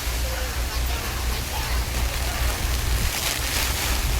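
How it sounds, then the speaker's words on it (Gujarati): Heavy rain and strong wind lash a fishing boat off Porbandar during a storm, a steady loud roar of downpour with low rumbling gusts throughout. "અત્યારે વરસાદ એટલો છે ને પવન પણ એટલો જ છે."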